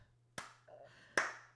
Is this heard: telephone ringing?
no